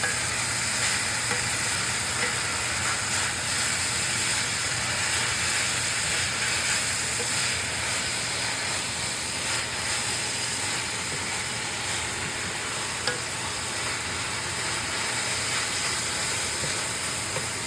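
Collard greens sizzle steadily in hot oil in a pan, a loud continuous hiss and crackle that holds evenly throughout with no talking.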